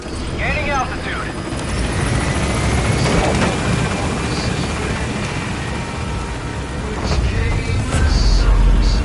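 Helicopter lifting off from a landing zone in the video game Metal Gear Solid V, a steady loud rotor and engine drone that holds throughout, with brief radio-style voice chatter near the start.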